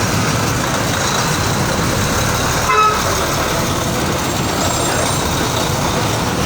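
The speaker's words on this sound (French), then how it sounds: "regardez l'embouteillage" Congested street traffic in Cameroon, with a dense steady roar of engines and car horns honking throughout, including a brief louder toot near the middle.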